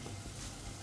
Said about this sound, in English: I'm going to take my vegetables and I'm going to pour my vegetables